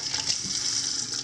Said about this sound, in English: First thing I like to do is just going to run some hot water